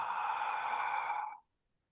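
One long, steady breath is drawn in during a breathing exercise, close and fairly soft, lasting about a second and a half before it cuts off into silence.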